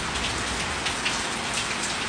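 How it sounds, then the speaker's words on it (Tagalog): Heavy rain pours steadily onto a surface, a dense continuous hiss of drops close by with no voices, during the first downpour of May at a home. "Ayan, lakas ng ulan."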